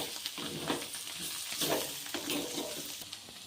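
Bitter gourd pieces and onions frying in a pan with a spoonful of extra oil, giving a steady close sizzle with soft stirring scrapes and small bursts throughout.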